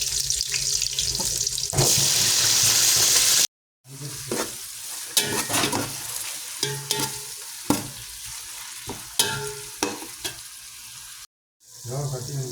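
Spices and garlic fry in a hot pan with a loud, continuous sizzle, broken by scraping stirs and clinks of a utensil, and cut off twice by brief moments of silence.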